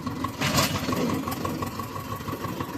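An old 2011 Zetor tractor engine runs in third gear along a deep, uneven track between a paddy field and sugarcane, a steady loud mid-range rumble with a brief surge near the start, heard close and alone.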